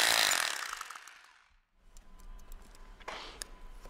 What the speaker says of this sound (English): Then the holes for the cavity wall anchors are drilled and the anchors are introduced.